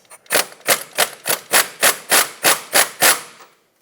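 Impact wrench with a 21mm socket working on the outer tie rod of a 2014-2021 Mazda 6, firing in about ten short, evenly spaced rattling bursts, close and loud.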